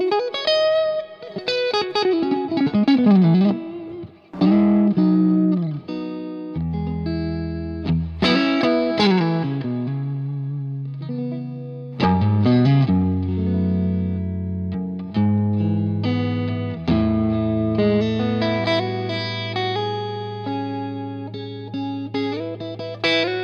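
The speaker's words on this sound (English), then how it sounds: "I need a little reverb for pleasure" An electric guitar plays sustained chords and single-note phrases with a lingering reverb tail. The tone is effected and loud throughout, with brief pauses between phrases and no voices.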